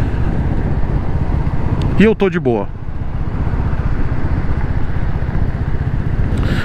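A Royal Enfield Classic 350 motorcycle engine thumps at a steady low rumble while cruising at about 50 km/h in top gear, with wind noise throughout and someone speaking briefly over it.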